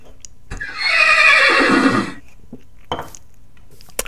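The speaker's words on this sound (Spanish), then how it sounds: "Ahí, Peporro, como me relincha, madre." A horse in the video game Minecraft lets out a loud, bright neigh lasting over a second, followed by a few small clicks and taps.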